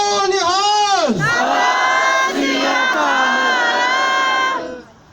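A crowd at a Sikh justice rally in Scotland roars a jaikara slogan together, a loud drawn-out collective shout that rises, dips and swells again before it fades away at the end.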